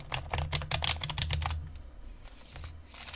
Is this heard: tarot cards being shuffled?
yes